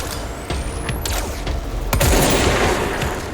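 Gunfire in the action video game Control comes as close, loud bursts of shots with sharp impacts and mechanical clatter, and a heavier blast near the middle, over a constant background roar.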